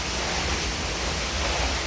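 Waterfall in Tetebatu, Indonesia, heard up close as a loud, steady, broadband roar of falling water that fills the whole moment without talk.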